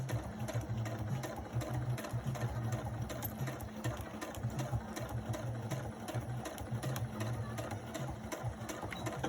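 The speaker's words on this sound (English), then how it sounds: "So now we've sewn our curve." Sewing machine stitching a curved seam in quilt piecing, a steady close mechanical whirr with fast rhythmic chatter running evenly throughout at a slow, controlled pace.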